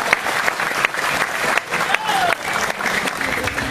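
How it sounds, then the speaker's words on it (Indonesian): An audience at a gathering claps in a dense burst of applause, loud and sustained throughout, with a brief whistle-like tone partway through. "Tepuk tangan buat semuanya."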